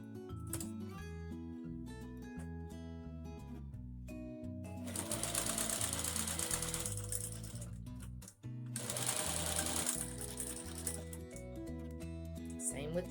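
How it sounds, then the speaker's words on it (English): A sewing machine stitches two layers of fabric for a face mask in two loud, rapid bursts of whirring and clattering, heard over steady background music. "Now we're going to put them right sides together. And sew just 2 layers together."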